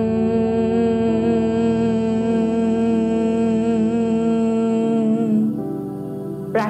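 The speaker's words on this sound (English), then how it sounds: "humming sound like this." A person humming while breathing out, one long steady voiced tone held for about five seconds, close and clear, then fading out.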